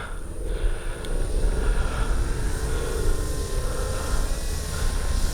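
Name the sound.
RC model warplane taking off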